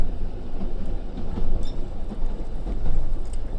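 Steady low rumble of a heritage train rolling along the track between Haverthwaite and Newby Bridge Halt, with faint rhythmic rattling of wheels and carriages, continuous and fairly close.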